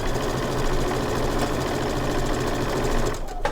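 A sewing machine stitches a log cabin quilt block seam with a steady, close, rapid whir for over three seconds, then slows and stops near the end.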